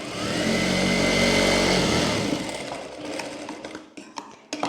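A sewing machine stitches the neckline of a blouse, running loud and steady at close range for about two seconds before winding down into fainter clicks and handling noise.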